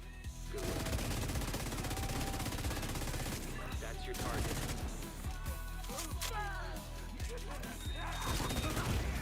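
Enemy LMG gunfire in The Division 2, a continuous barrage of rapid shots at moderate distance with crashes and other battle noise, and a voice talking over it.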